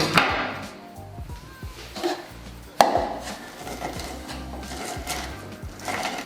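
A knife cuts through a lemon that was rolled soft beforehand, giving a series of irregular knocks on a cutting board at close range, with one sharper thud partway through.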